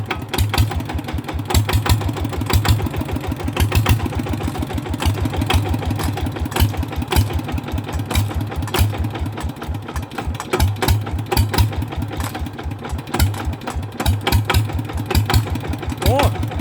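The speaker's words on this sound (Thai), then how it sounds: "แล้วก็ลองติดเครื่องเบิ้งใหม่ นะครับ" A small engine, apparently a motorcycle's, is started and revved after its fuel mixture is tuned, giving a steady rhythmic idle with repeated throttle blips close by, and someone talks over it.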